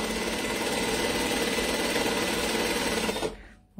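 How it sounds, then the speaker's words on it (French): A sewing machine runs a decorative edge stitch on a fabric pouch, a close, steady rapid whirr that stops abruptly near the end, with no talk. "Je peux faire une petite piqûre ici en bord"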